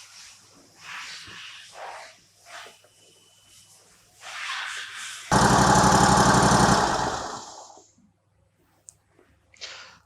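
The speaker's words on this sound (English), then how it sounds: "we're going to start the engine, let it run for a minute or two," An Exmark Radius E Series lawn mower engine starts and runs loud and steady for a couple of seconds near the middle, then cuts off. Quieter rustling and handling noises come before and after.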